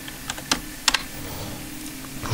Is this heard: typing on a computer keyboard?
yes